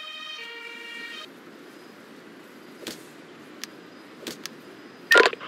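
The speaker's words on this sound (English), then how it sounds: "The ambulance is taking the casualty to the hospital ward at the base." Ambulance siren from the Emergency 5 video game sounds as a steady electronic tone for about a second, then cuts off, leaving quiet background with a few scattered clicks.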